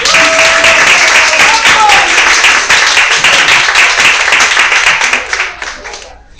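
Dense applause fills a room at a festive book launch, loud and even for several seconds before fading out quickly.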